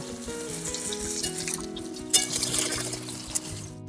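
Cabbage fritters made with ground lentil batter fry in hot oil in a pan, a close, steady sizzle and bubbling with a few sharper crackles, no one speaking.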